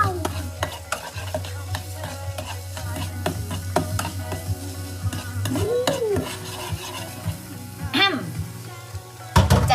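Naem, Thai fermented pork sausage, stir-fried with egg in a pan: loud, busy sizzling with rapid scraping and clanking of a spatula against the pan, and a voice briefly heard over the cooking.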